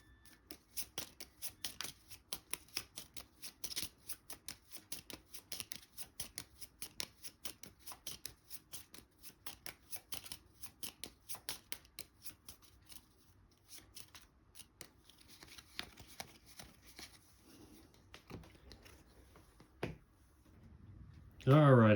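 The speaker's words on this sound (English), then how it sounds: "take the event cards, shuffle them all up" Board game event cards being shuffled by hand, a long run of quick, crisp riffling and snapping bursts at close range, thinning out near the end where a voice begins speaking.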